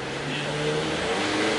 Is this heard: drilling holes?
no